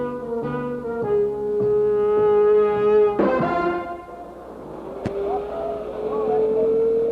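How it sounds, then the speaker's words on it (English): A drag racing car on a roller starting system at Lions Drag Strip in Long Beach cranks with a rhythmic mechanical pulse, then fires into a loud, rough, steady engine drone nearby, with a sharp crack partway through. "As the car is started on the roller system,"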